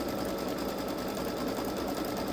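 A Baby Lock Solaris embroidery machine stitches a design onto a T-shirt, giving a steady, continuous mechanical whir with fine rapid needle chatter, close and even throughout with no talking.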